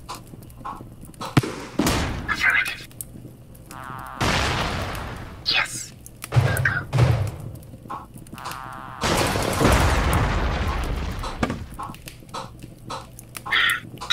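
Blasts and booming explosions as a reactor is blown up in the video game REDCON, bursts of noise scattered through the stretch while people talk between them.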